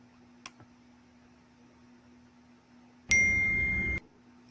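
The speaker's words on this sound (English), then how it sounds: "this is a diegetic sound, the text message notification." A text message notification chime sounds once, a bright tonal ding lasting about a second, loud and clear over a faint low hum, with a small tick shortly before it.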